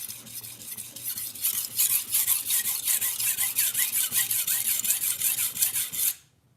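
A Miyabi kitchen knife is sharpened on a fast-cutting whetstone at about 13 degrees per side, a bright gritty scraping in quick repeated strokes, loud and close, stopping abruptly at the end.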